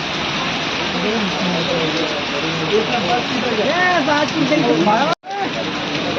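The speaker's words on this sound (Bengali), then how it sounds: "এইখানে এত জোরে বৃষ্টি হচ্ছে" Heavy rain pours down in a dense, constant roar, with people talking underneath it.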